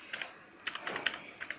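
Several quick bursts of computer keyboard typing as a search is entered, light clicky keystrokes in short clusters, fairly quiet and close with no voices.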